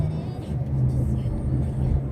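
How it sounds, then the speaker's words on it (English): A car pulls away from a green light at an intersection, its engine giving a steady low rumble and whir that builds slightly as it accelerates, heard from inside the vehicle. "Green light, double check, make sure no one's running the lights, then you can go ahead and accelerate"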